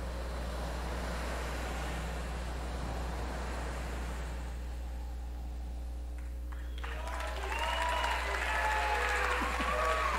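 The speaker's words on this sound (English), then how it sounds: "Why are you people applauding?" An audience applauds at a game presentation with a broad, steady wash of clapping that fades after about four seconds. A voice and music follow.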